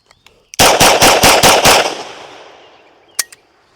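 Beretta M9A4 pistol fired at a range, a fast string of about seven loud, close shots with a ringing tail, followed by a single later shot.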